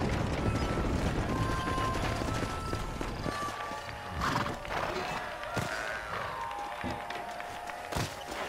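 Horses in the Red Dead Redemption video game, with clip-clopping hooves, a whinny and rattling carriage mechanisms over game ambience, plus a few sharp knocks and a voice speaking briefly.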